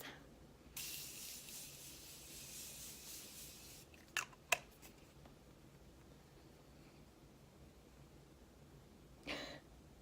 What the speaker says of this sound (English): I'm gonna take my Morphe setting spray and just set my face